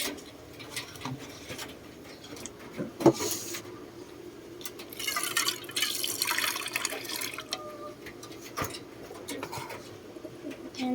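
Water being changed in a pigeon drinker, with trickling and splashing water at close range, scattered pigeon coos and light handling knocks at a low level.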